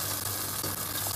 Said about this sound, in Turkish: sosum 3-4 dakikadır kaynıyor